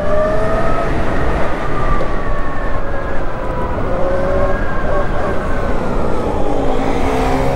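A VMOTO Stash motorbike accelerates on the road on new tyres, its engine note climbing steadily in pitch through the revs, loud and close, with wind rush underneath.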